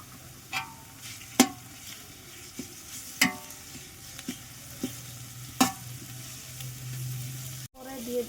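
Fried onions with garlic paste sizzle in a pan, stirred in repeated scraping strokes, with a steady low frying hiss beneath sharp clinks of the spoon, close and moderately loud, no voice.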